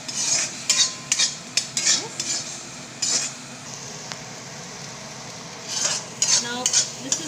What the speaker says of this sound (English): continuously stirring so that it doesn't stick onto the bottom of the pan